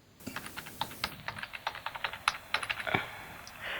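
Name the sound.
typing a password on a computer keyboard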